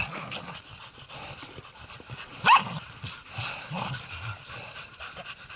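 A hunting terrier panting close by on a driven hunt, with one short sharp bark partway through and soft whimpering sounds.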